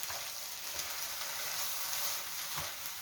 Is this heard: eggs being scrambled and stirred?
yes